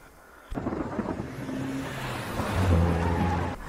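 Two cars racing one behind the other along a forest road, a sudden loud engine roar with wind rush that swells and builds toward the end.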